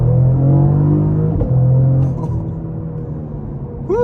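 A Cadillac CT4-V Blackwing engine hums loud and steady in manual first gear, a deep droning rumble that drops in pitch and eases off about halfway through.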